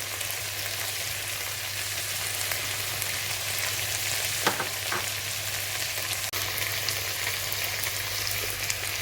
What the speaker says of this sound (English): I'm just going to add 1 full tablespoon of smoked paprika.